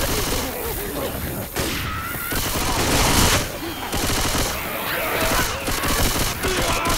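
Dense automatic gunfire from the video game Left 4 Dead 2 on Xbox 360 rattles in loud, continuous bursts with brief pauses, mixed with game noise and players talking over it.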